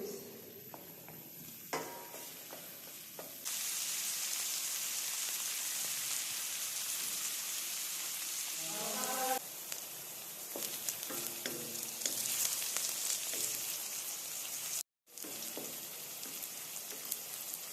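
Eggplant frying in a generous amount of olive oil, stirred now and then, gives a steady close-up sizzle and hiss with occasional scraping and clatter of stirring, and no one speaks.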